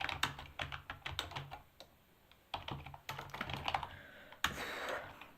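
Someone types on a computer keyboard, sending out quick, uneven bursts of close key clicks with short pauses between runs and a heavier clack near the end.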